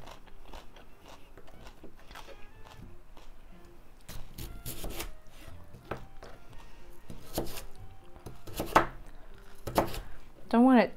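A kitchen knife chops vegetables on a board for Icelandic meat soup in a steady run of crisp, close taps, with a voice briefly heard near the end.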